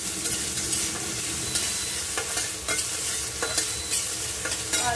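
Onion and tomato stirred in a hot pan with dal and turmeric nearby, a steady loud sizzle with scraping spoon strokes recurring every second or so, no voices.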